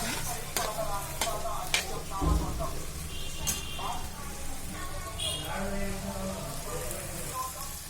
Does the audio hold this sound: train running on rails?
no